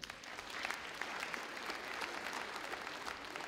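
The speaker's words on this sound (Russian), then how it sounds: "Аплодисменты." An audience at a KVN comedy competition in Ufa claps in dense, lively applause that stays loud and steady the whole time, with a faint crowd murmur beneath it.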